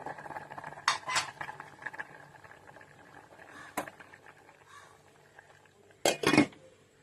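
A metal lid clinks onto a cooking pot of Bengal gram after the heat is switched off. Scattered sharp metallic clatters ring out, with a louder double clank near the end, in a quiet kitchen.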